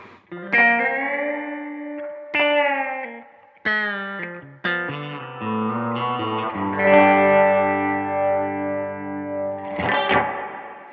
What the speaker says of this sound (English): Okay, so that's just the reverb now.